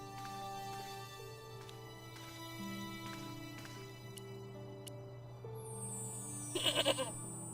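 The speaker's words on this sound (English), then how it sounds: "Was that a goat?" A goat bleats in the point-and-click game Broken Sword: Shadow of the Templars, one short wavering cry near the end over a quiet, steady musical background.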